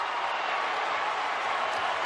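Basketball arena crowd at the 2018 Big East Championship between Providence and Villanova, a dense, sustained roar of cheering that stays loud and even throughout, with no distinct voices.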